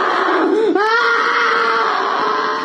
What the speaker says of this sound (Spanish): En la sala solo se escuchan los gritos de la supuesta posesa